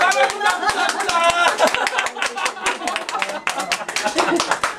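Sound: audience clapping

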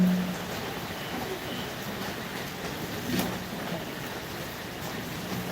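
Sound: heavy rain falling

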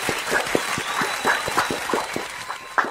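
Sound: audience applause

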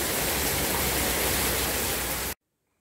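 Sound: heavy rain pouring down

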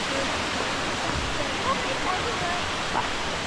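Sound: Kuang Si waterfall in Laos

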